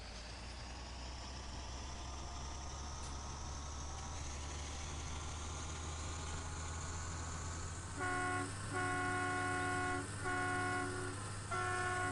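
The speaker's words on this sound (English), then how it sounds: "That fire truck horn never gets old on this thing" A fire truck horn mounted on a sprayer in Farming Simulator 17 blares in several long, loud honks, the first three in quick succession and a fourth after a short pause, over a steady engine drone that runs throughout.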